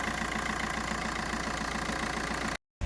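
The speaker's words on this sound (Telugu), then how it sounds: "ఇంజన్ కూడా చాలా సైలెంట్ ఉందండి" A 2017 Maruti Swift Dzire taxi engine idling with a steady, smooth, even hum heard close by, broken by a brief dropout just before the end.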